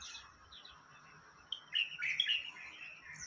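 Small white-crested birds chirping and twittering in the morning, a few scattered calls at first, then a livelier burst of bright, overlapping tweets, moderately near and fairly soft, with no talking.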